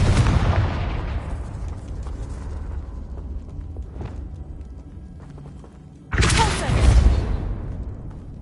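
Explosive Confringo spell blasts in Hogwarts Legacy: a heavy, loud burst near the start that rumbles down, a fainter pop around midway, then a second sharp, loud blast late on that decays with a roar.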